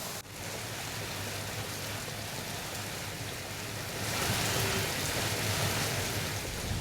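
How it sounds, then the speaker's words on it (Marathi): Heavy rain pours in Lonavala, a dense, steady hiss of falling water throughout that swells louder in the second half, with no voices. "लोणावळ्यात मुसळधार पाऊस आहे"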